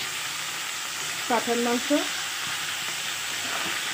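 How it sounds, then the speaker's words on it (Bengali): Fish fries in a pan with a continuous sizzling hiss, and a short burst of voice cuts in briefly near the middle. "তো আর এখানে হচ্ছে মাছ ভাজি"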